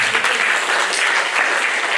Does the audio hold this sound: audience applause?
yes